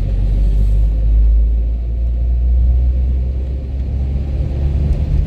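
A Renault 12 fitted with a replacement engine idles and runs with a deep, steady low rumble, close and fairly loud, with slight swells in engine note over a few seconds and no talking.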